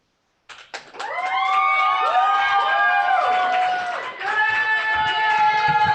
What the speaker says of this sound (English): Keep that applause going for the poet